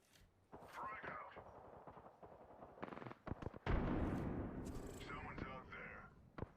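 A frag grenade going off in Apex Legends: a loud, broad blast that rumbles and fades after bursts of in-game gunfire, with a voice talking around the action.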